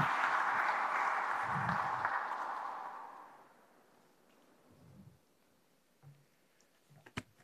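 Audience applause at a presentation of the new Porta Elisa stadium, a broad wash of clapping that swells loudly at first, then fades away over a few seconds into near quiet with scattered faint knocks.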